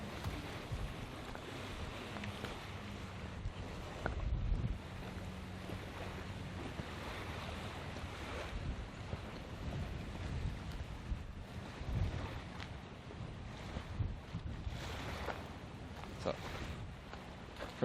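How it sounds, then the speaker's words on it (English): Strong wind on the Florida coast near a rocket launch site, roaring steadily and buffeting the microphone with a constant broad rush and occasional heavier gusts throughout. "This wind will not be fun."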